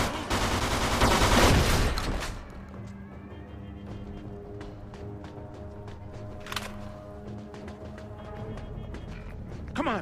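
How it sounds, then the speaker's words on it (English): A loud, close burst of rapid machine-gun fire erupts in the Mafia II shootout, then fades into sparse distant shots and scattered impacts over quiet background music. "They're shooting at me, for Christ's sakes!"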